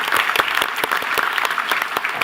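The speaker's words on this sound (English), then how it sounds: "give a big round of applause" A large audience at a nurses' association meeting (RNAO) claps in a loud, continuous round of applause, individual sharp claps standing out from the dense wash throughout.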